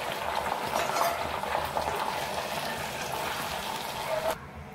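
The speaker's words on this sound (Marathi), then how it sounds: "आता मी कढीपत्ता तळून घेते" Curry leaves fry in hot oil in a pan for a chivda snack, giving a steady close crackling sizzle with faint stirring and utensil clinks, cutting off sharply near the end.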